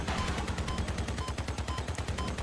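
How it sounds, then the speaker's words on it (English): Long-range Reaper guns on an ultra heavy armored vehicle in the game Crossout fire in a rapid, unbroken stream of loud, punchy shots with no talking. "Let's just shoot some long-range Reaper rounds at these guys."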